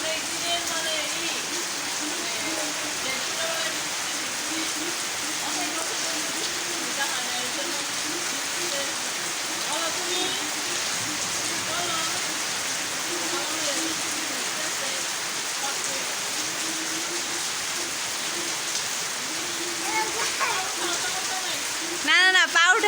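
Steady heavy rain pours down throughout, a dense continuous hiss with scattered patter, and people talk faintly beneath it.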